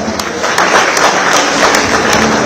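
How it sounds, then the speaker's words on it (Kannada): An audience at the Bengaluru International Film Festival applauds, a dense, steady wash of clapping from many hands, fairly loud and sustained throughout. "ಅವರ ಸಾಧನಾ ಶಕ್ತಿಗೆ, ಸಂಯಮಕ್ಕೆ ನಮ್ಮದೊಂದು ಚಪ್ಪಾಳೆಯ ಗೌರವ ವಂಚನೆ"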